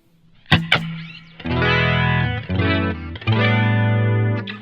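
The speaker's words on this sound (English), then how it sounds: "The JC chorus sounds really good." Electric guitar through a JC chorus effect on a Tone Master Pro, set up for a reggae rig, plays two short muted stabs and then sustained shimmering chords with a wide, wavering modulation.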